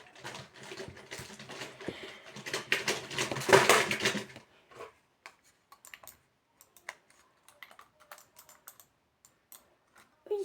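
Fingers clatter rapidly on a computer keyboard in a dense burst of key taps for about four seconds, then a few sparse, isolated clicks follow amid near-silence.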